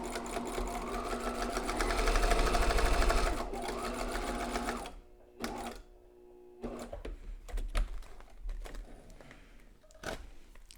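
A sewing machine stitches a protective face mask across the nose bridge, running steadily in a loud close burst for about five seconds, then pausing and restarting in shorter spurts amid clicks and handling noise.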